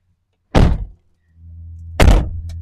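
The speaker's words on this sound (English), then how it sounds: "Doors shut pretty good." The door of an Ecolo Connect enclosed mobility scooter thunks shut close by, then a low hum starts and a second firm slam follows, both short and loud.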